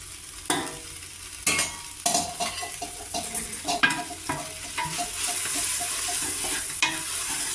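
Mutton chops being stirred with oil-roasted green chillies in a pan, with irregular scraping and clinking of a utensil against metal over a steady close sizzle of frying, no talking.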